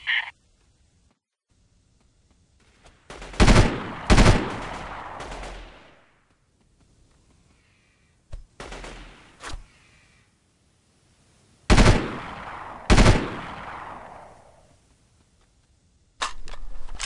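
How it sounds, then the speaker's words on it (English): Gunfire in the Delta Force 2 video game: sharp, loud single shots and short bursts with ringing decaying tails, separated by quiet gaps, with no talking. "they're shooting civilians!"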